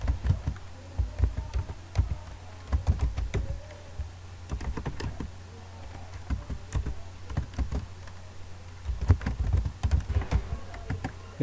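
Fingers tap out an email address on a computer keyboard in quick bursts of close, crisp keystrokes separated by brief pauses.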